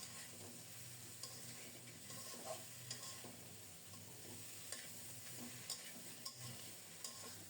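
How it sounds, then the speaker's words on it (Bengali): Fried fish heads and potatoes sautéed with spiced rice in a pan, a quiet steady sizzle with occasional soft scrapes and taps of a stirring spoon. "সব মিলিয়ে নেড়ে চেড়ে আরও কিছুক্ষণ কষিয়ে নেব।"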